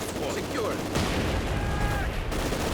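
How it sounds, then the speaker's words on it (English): Mortar rounds and gunfire in the real-time strategy game Company of Heroes, a dense run of rapid shots and booms with a heavier blast partway through, continuous and fairly loud. "Molotovs being locked in, mortar rounds going in."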